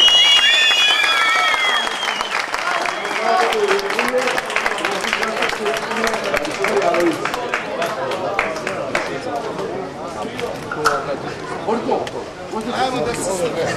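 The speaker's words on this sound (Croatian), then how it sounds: "Moj veliki aplauz za Ivicu Zoranović" Outdoor crowd applauding the winner of the traditional jumps from the Djetinja railway bridge, steady dense clapping with cheering and crowd chatter throughout, loud and sustained.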